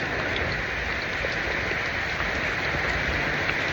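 Heavy rain pours steadily, a dense, loud, unbroken hiss of drops striking surfaces nearby, with no voices.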